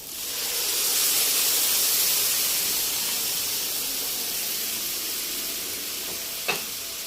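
Thick tomato juice is poured slowly into a pan of sautéed onion and garlic, giving a steady, close sizzling hiss that fades gently, with one small clink near the end.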